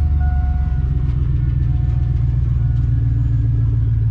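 A pickup truck engine, just started, rumbles steadily at idle, a deep continuous drone close by with no voices over it.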